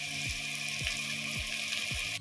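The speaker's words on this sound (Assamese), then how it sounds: "এই মছলা সানি থোৱা চিকেনখিনি দি দিছোঁ। ভাজি লৈছোঁ।" Marinated chicken coated in ginger-garlic paste and chili powder fries in hot oil in a pan, giving a steady, close sizzle with four evenly spaced low thumps running through it.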